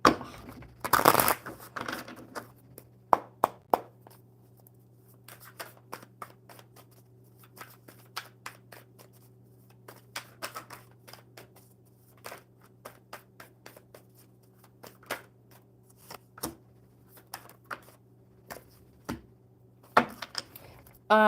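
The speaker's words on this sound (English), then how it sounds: "One more good shuffle, Michaela." Tarot cards are shuffled by hand during a live reading, quiet riffling interrupted by repeated sharp snaps and taps of the deck, scattered irregularly over a faint steady background hum.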